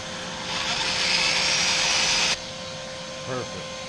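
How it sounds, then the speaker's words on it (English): A vacuum cleaner whirs loudly for a couple of seconds during work on a boat's cast aluminum rudder housing, then cuts off abruptly, leaving a steady background hum and a brief voice. "Just need to hook up the vacuum real quick"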